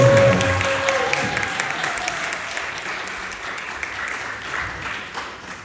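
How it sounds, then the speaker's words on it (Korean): An audience at a school literature day event breaks into loud applause for a tenth-grade student about to recite a poem. The clapping starts strong and full, then slowly thins and fades over several seconds. "큰 박수"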